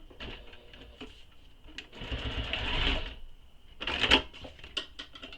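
Close sewing machine stitching a bag panel in brief, uneven runs, with clicks and handling taps between the bursts of whirring needle action.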